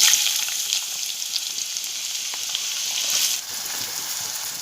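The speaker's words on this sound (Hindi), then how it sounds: "मैंने फ्राई पैन में तेल में प्याज डाली हूँ" Onions fry in oil in a frying pan for mutton kaleji masala, making a steady bright hiss and sizzle that dips slightly partway through, close and alone with no speech.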